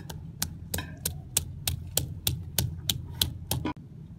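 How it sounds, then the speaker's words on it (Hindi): Ginger and garlic pounded into a paste with a mortar and pestle in a home kitchen: about a dozen sharp, evenly spaced knocks at a steady rhythm over a faint hum. "ये मैं अदरक और लहसुन का पेस्ट बना लूंगी कूट कर।"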